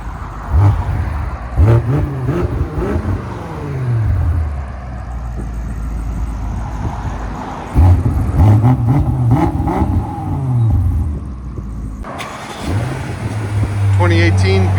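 A 2018 BMW M5 Competition F90's 4.4-liter twin-turbo V8 with a full Dinan exhaust system, X-pipe and axle-back kit revs hard in several loud bursts, rising and falling, with a throaty exhaust roar and a steady idle between revs.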